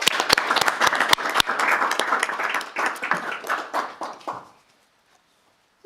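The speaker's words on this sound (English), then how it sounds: "So let's give him a clap." Audience at a city council meeting applauds an award winner, a few sharp individual claps at first building into brisk group clapping that stops abruptly after about four seconds, leaving silence.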